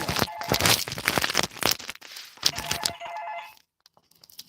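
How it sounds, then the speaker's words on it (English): A telephone rings in a busy room, its warbling electronic tone rising through crackling, crinkling handling noises before the clatter drops away and the ring continues faintly alone. "Oh, I can't turn this off, and the phone is ringing."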